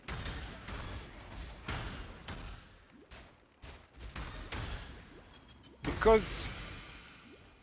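Spell explosions in Path of Exile thud in rapid bursts from the Occultist's Bane and profane bloom skills, mixed with fast combat noise. A sharper, brighter blast lands near the end while someone talks over it.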